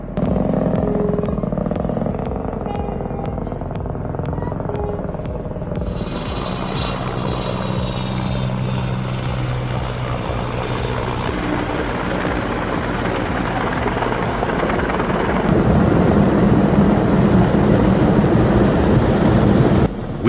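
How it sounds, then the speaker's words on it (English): A Canadian air crane helicopter working on a heli-logging job, its rotor and turbine roaring steadily and loudly throughout, growing heavier and closer near the end. "Witness Canadian air crane heli logging in action."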